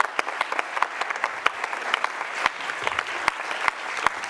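An audience at a social innovation pitching competition applauds speakers coming on stage, a steady crowd of clapping with individual sharp claps standing out throughout.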